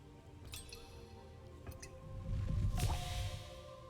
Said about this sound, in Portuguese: Ela fez o som de água.